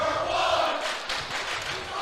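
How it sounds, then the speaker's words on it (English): Basketball crowd noise from the far side of the gym, the Blue Valley Northwest section during a varsity game against Waukee, a steady loud roar of voices and yelling aimed at a free-throw shooter, with no clear pauses. "you hear that the crowd over on the far side, Blue Valley Northwest, doing a good job of stymieing him at the line"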